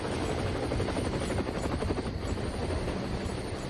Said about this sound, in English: There's a helicopter going across.